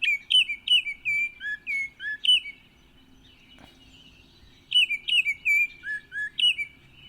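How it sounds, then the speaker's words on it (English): A small chirpy songbird sings in two bursts of rapid, bright, whistled chirps, a short repeated phrase that pauses briefly before starting again, clear and close with no other sound. "It seems like it's a smaller bird."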